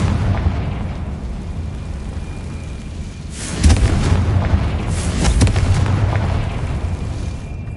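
A Confringo spell detonates in Hogwarts Legacy, a heavy booming blast that bursts in partway through over a steady low in-game rumble, then rolls on as a rough, sustained roar with scattered crackles.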